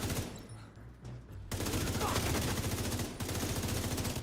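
Dense, continuous gunfire fills a video game battle, quieter scattered shots at first before a sudden loud rattling fusillade takes over and keeps firing.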